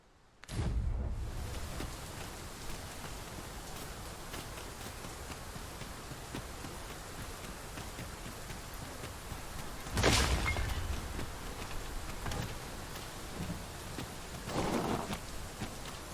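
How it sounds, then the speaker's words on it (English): Steady rain hisses throughout with a couple of louder rumbling swells, like distant thunder, and no voices, in the video game Dragon's Dogma 2. "It's raining."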